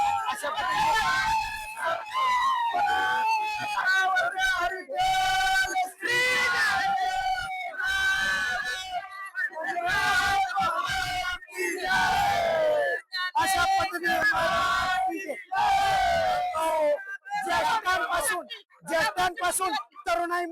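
A dense, loud crowd of young and old people cheering, shouting and whooping during the Sant Tukaram Maharaj palkhi procession, with singing-like voices and babble continuing throughout.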